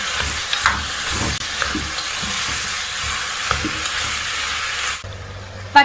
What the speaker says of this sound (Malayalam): പച്ചക്കറികളെല്ലാം നമുക്ക് ഒന്ന് വഴറ്റിയെടുക്കണം.